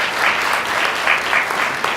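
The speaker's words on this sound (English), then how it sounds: "I want to ask you to give another round of applause for these panelists." An audience applauds panelists at a community education forum in Perth Amboy, a steady, dense wash of clapping from a crowd, moderately close and sustained throughout.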